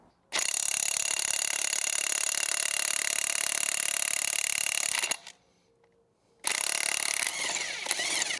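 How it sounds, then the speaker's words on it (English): An impact wrench or power tool whirrs loudly and steadily on a wheel lug nut of a 2007 Chevy Suburban during a front wheel bearing job, stops briefly into near silence, then starts again. "So we just loosen the nut just a little bit, and then we put a little bit of torque back onto it so as it would be snug."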